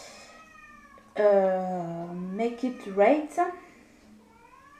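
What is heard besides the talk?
cat meowing to come in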